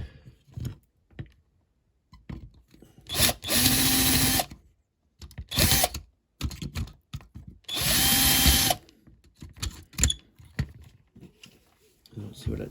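A power drill bores into a rivet on a Buick Regal banger racing car, with two sustained bursts of whirring plus a couple of shorter ones, separated by handling clatter and a voice talking between them.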